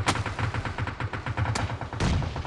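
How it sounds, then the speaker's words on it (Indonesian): Rapid bursts of game gunfire aimed at a car during a competitive battle-royale scrim, dense and loud with sharp repeated shots and a heavier blast near the end, no voices. "Langsung ditembak saja mobilnya."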